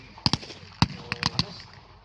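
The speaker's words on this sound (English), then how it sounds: "Oh no, it's the 25-pounders opening up now." 25-pounder field guns fire during a battle reenactment at Sedgefield, giving a rapid cluster of sharp, loud bangs in uneven bursts over about two seconds, with faint voices in the background.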